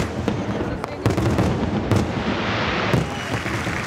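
Repeated booming blasts and sharp cracks in Chechnya, several within a few seconds, over a continuous rumbling din, loud and fairly close.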